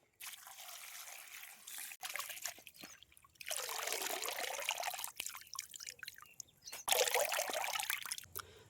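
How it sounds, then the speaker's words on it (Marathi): Water trickles and splashes in several bursts as punarnava leafy greens are swished and rinsed in clean water, with short quiet gaps between the washing sounds. "दुसऱ्यांदा फक्त स्वच्छ पाण्यात धुवून घ्यायची आहे"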